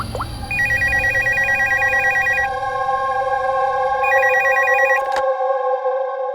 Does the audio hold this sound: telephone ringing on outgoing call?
yes